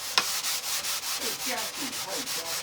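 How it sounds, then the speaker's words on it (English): Hand sanding with a sanding block across a slightly rough surface that still has a little paint on it, heard as steady close back-and-forth rasping strokes in an even rhythm with no speech. "I'm going to start with a sanding block because there's a little paint on this."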